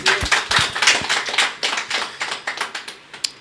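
A short burst of scattered applause from a small group at a Bible college testimony gathering, claps irregular and moderately loud, tapering off toward the end.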